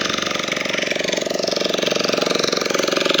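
A fishing boat engine at a beach runs loud and steady with a fast, even throbbing pulse and a broad hiss over it, continuing unchanged throughout.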